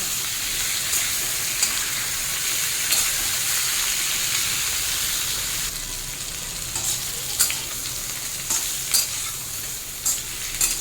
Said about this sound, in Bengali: একটু ভেজে নেব খুব হালকা হাতে নাড়িয়ে দিতে হবে